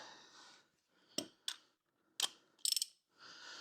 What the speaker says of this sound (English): Breaker bar.